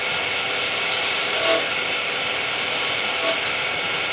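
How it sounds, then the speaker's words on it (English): A woodturning tool cuts against a spinning piece of wood on a lathe, tidying up its edges, giving a steady, loud, continuous hissing scrape with a couple of brief sharper bursts and no talking. "Clean up these edges, like so. Bit more tidying up here."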